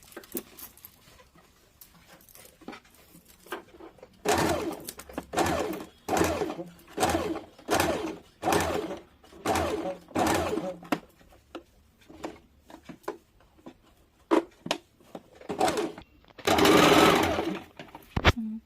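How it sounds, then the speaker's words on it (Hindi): Sewing machine stitching baby frock fabric, running in a dozen or so short rhythmic bursts of rapid needle chatter with brief pauses between, close and moderately loud. "कट करने के बाद इसको इस प्रकार से सिलाई चला लेंगे"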